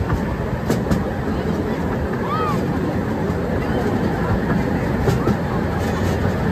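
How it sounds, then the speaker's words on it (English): A miniature railway train on a single track at a seaside resort in Greater London rumbles past with a steady rolling clatter and faint squeals, amid outdoor background murmur of people. "Quite a long train they're running"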